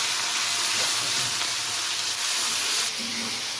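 Onion paste hitting hot oil for prawn dopiaza, giving a steady loud sizzle and hiss that holds throughout, with a short shift near the end as stirring changes the frying.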